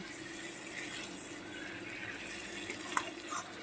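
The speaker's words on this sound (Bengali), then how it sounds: "কষানোর পরে আমি জল দিয়ে দেব" Water pours steadily into a pan of pointed gourd and potato, a continuous quiet gushing and trickling heard close with no talk.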